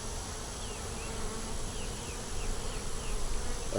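Honey bees buzzing around brood box frames at an open hive, a dense continuous drone from many bees, close and steady, with individual bees whining past now and then.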